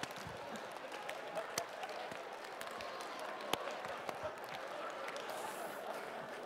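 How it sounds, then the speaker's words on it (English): A conference audience clapping and slapping their thighs in a fast rhythm exercise, a fairly quiet dense patter of many hands with occasional sharper single claps and snaps. "click for the one, click, then clap, then slap your thigh as fast as you can"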